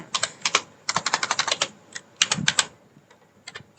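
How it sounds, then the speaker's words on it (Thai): Rapid keystrokes on a computer keyboard in bursts of clicks with brief pauses, close and clear with no talking. "จากนั้นครับท่านพิมพ์เลยครับ"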